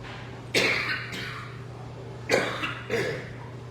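Three separate coughs, fairly close, the first a double burst, the later two spaced about half a second apart over a steady low hum.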